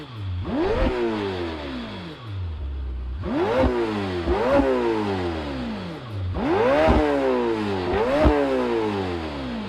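A Lamborghini Temerario's twin-turbocharged, high-revving V8 is blipped in repeated sharp revs that climb and fall back quickly in pairs, loud and close, over a steady idle.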